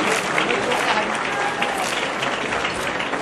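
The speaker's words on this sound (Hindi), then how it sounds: "तालियों की गड़गड़ाहट थोड़ी कम पड़ रही है।" Dense, loud applause at a Christmas carol celebration at the Chief Minister's residence, a continuous roar of many hands clapping, with voices mixed in throughout.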